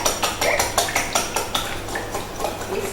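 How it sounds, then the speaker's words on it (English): Eggs whisked for paleo bread, a rapid, steady run of bright clicking strokes of a whisk against a bowl, close and alone with no talking. "So give them a whisk."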